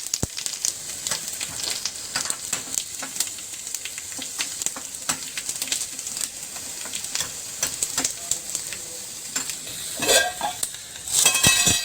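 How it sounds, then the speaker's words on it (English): Curry leaves stirred and fried in a pan, a bright crackling sizzle with rapid pops and occasional clinks of a utensil against the pan, louder bursts near the end. "So we have added the curry leaves. Just mix it well, a few seconds."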